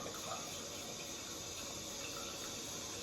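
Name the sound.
hot water filling a small basin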